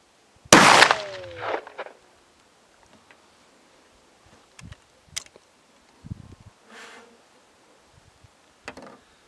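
A single sharp gunshot from the lower barrel of a TOZ-34 shotgun firing an Azot slug at a 50-meter range, loud and abrupt with a short echoing tail, followed by scattered faint knocks and quiet background.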